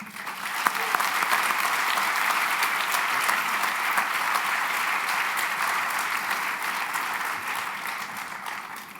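An audience at a medical school white coat ceremony applauds steadily for about nine seconds to welcome the dean, with dense, even clapping filling the hall and no talk over it.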